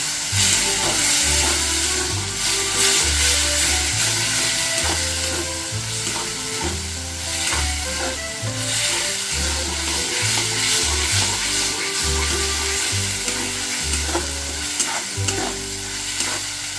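Spiced egg and eggplant masala, loosened with a splash of water, sizzles continuously in a pan while a spoon stirs it in a steady, rhythmic series of low scraping thuds, with no talking.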